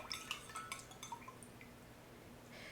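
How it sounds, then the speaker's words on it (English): Spoon clinking and swirling in a glass of water as a few drops of red food coloring are stirred in, quick light taps and scrapes at first, then fading into quiet. "we're going to put a few drops of red food coloring in, and we're going to stir it up"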